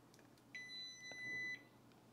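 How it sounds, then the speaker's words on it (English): One steady electronic beep from a ZWO AM5 telescope mount as it powers off during a firmware update, lasting about a second, faint against a quiet room hiss. "you're going to hear the mount, it's going to beep and it'll turn off"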